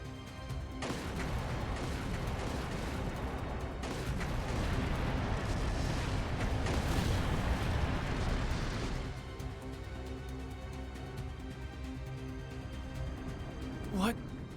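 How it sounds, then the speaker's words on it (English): Battle sounds from the video game Trails Through Daybreak 2: sustained gunfire and explosive rumble in a city fight, loud and dense for several seconds before easing into quieter background noise, ending with a brief sharp sound. "Confirming source of gunfire."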